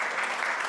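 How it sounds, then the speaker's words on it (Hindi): An audience claps at a college poetry event at DAV PG College in Varanasi, a dense and steady burst of applause heard faintly and briefly with no talk over it. "एक बार जोरदार तालियां हो जाए"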